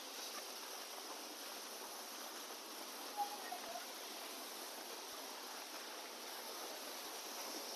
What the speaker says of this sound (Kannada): ಇಲ್ಲಿ ಕಾಣುತ್ತೆ ನೋಡಿ, ಇದೆ ಅಪ್ಸರಕೊಂಡ ಫಾಲ್ಸ್.